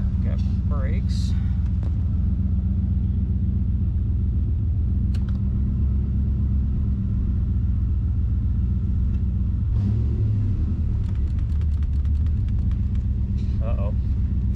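A 1987 Chevrolet Camaro IROC Z runs steadily with a deep, continuous engine rumble close by as it begins to move, the drone holding level throughout with a few brief clicks and knocks on top.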